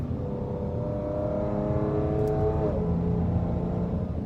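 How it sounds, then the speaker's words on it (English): A Dodge Challenger SXT Plus AWD V6 engine revs steadily upward with a smooth rising drone, then drops off; loud and close, no talking. "That is a nice sounding V6."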